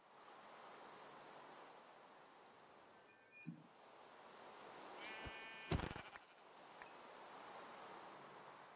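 Sheep in the video game Minecraft give a couple of short, faint bleats over a quiet, airy background.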